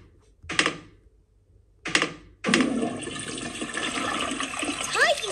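A toilet flushes in a cartoon bathroom: two short clicks or taps come first, then a loud rushing gush of water that keeps running to the end with trickling sounds.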